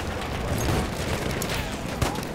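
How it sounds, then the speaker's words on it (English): Artillery bombardment in the Battlefield 1 game, a constant rumbling wash of distant explosions and gunfire, with one sharper blast near the end. "Another bombardment"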